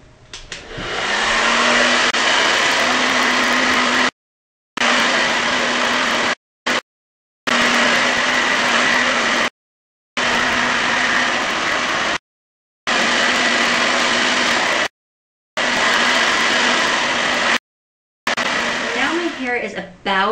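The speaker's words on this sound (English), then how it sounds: "I just flip my head upside down and then blow dry it" Hair dryer blowing hair dry with the head flipped upside down, a loud steady whooshing roar switched off and on in several long bursts with short silent gaps, close to the microphone.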